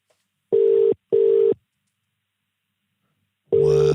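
A phone call rings out unanswered: two short ringback tones close together, then a pause, then another tone starting near the end, loud and clean with no talk.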